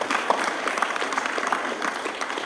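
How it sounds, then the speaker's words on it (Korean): An audience at a Korean science and technology entrepreneurship camp claps in sustained, dense applause indoors, loud and even across the crowd, after a venture startup pitch competition. "한번 박수 한번 보내주세요"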